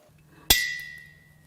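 A single sharp metallic clank rings out once from a teardown of a destroyed JDM Subaru WRX EJ20X turbo engine, where loose metal debris strikes a hard surface and then fades in a short ringing tail. No one speaks.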